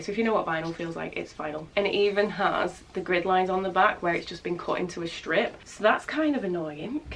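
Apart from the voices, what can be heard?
No distinct noise like a dog, phone or traffic.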